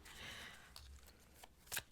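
Tarot cards riffle and flutter briefly close by, a soft papery shuffle ending in a quick snap, with no talking.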